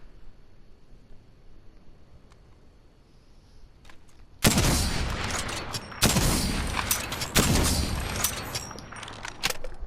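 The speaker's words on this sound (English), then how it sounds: "The next weapon we're on to is the Sentinel." Sentinel sniper rifle from Apex Legends firing in game: a quiet lead-in, then from about four and a half seconds loud, sharp rifle shots crack close by in quick succession, with echoing tails and mechanical clatter between them, no talk.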